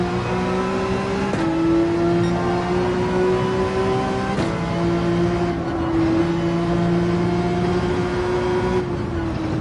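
Porsche 911 and Ferrari 458 Italia race cars in Gran Turismo 7 on the Nürburgring, engines droning steadily at high revs with brief gear-shift dips, loud and continuous with no talk.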